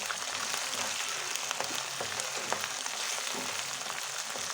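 Finely chopped ginger and whole garlic cloves sauté in hot oil for a Kerala bilimbi (irumbanpuli) pickle, giving a steady, dense sizzle with no talking.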